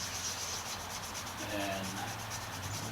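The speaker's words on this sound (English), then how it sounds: "that's what I'm going to use to wet sand this" Wet sanding a car roof by hand produces a steady, rhythmic rubbing and scraping that continues close and evenly throughout, with no talking.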